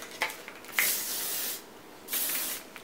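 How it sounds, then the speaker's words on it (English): Aerosol hairspray sprayed onto fine hair while styling beachy waves, heard as two sustained hissing bursts of about a second each with a brief quiet gap between, close and clear with no talking. "just take good old hairspray"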